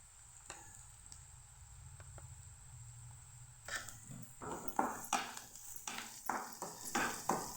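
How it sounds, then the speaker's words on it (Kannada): Gojju sauce with turmeric and salt is stirred and cooked in a pan, heard as a faint hiss followed by repeated scraping strokes of a spoon against the pan, rhythmic and close, growing busier toward the end. "ಇವಾಗ ಒಂದು 2-3 ಸೆಕೆಂಡು ಸ್ವಲ್ಪ ಚೆನ್ನಾಗಿ ಎಲ್ಲ ಬೆರ್ಕೊಂಡು ಚೆನ್ನಾಗಿ ಬೇಯಲಿ"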